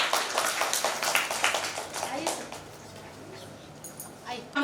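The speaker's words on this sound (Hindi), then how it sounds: "जोरदार तालियां।" Applause at a physics department celebration for Dr. Vikram Sarabhai's birthday in Ujjain, dense clapping for a couple of seconds that dies away into a quieter room.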